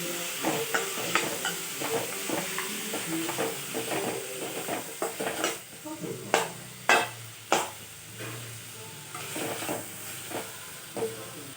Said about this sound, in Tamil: இந்த வெங்காயம், தக்காளி, முந்திரி போட்டுக்கோங்க. நல்லா வதக்கி விடுங்க.